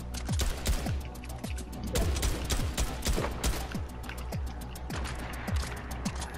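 Rapid gunshots crack in the Fortnite video game, a dense run of sharp, fairly loud bursts in quick irregular succession.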